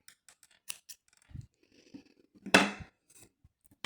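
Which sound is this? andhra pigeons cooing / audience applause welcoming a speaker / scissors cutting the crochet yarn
scissors cutting the crochet yarn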